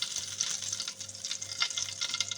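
Red chillies and a sprig of curry leaves sizzle in hot oil after mustard seeds have popped, a steady crackling fry with bright spitting bursts and soft stirring, close and fairly quiet.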